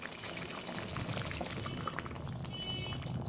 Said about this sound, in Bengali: জল দিয়ে দিচ্ছি।